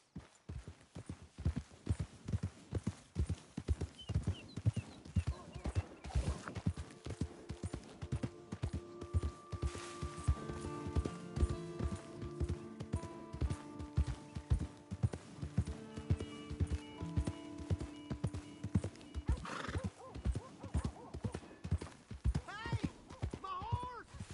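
Horse hooves clip-clop in Red Dead Redemption II, a steady rhythmic beat of close, even steps running through the whole stretch, with music tones and in-game voices over them.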